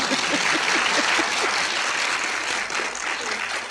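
An audience at a spiritual gathering on concentration claps continuously, a dense, even burst of hand claps that stays loud and close for the whole stretch with no speech over it.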